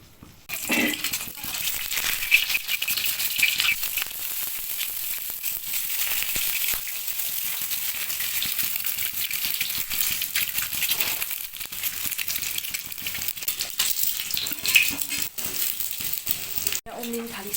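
Ingredients for an egg and potato curry fry in a pan, giving a loud, steady sizzle and crackle that runs the whole time, with a brief clatter near the end.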